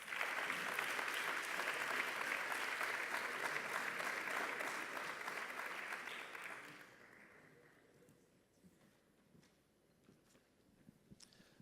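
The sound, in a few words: audience applause for Óscar at a graduation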